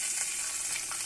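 Black cumin, cardamom, cloves, cinnamon and a bay leaf sizzle in hot oil for a Bengali hilsa curry, a soft, steady, hissing crackle at low volume with no voices.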